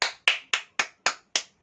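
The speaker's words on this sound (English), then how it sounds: "Give a round of applause." A single person's hands clap seven times in an even, steady rhythm, each clap sharp, close and dry, with short silent gaps between them.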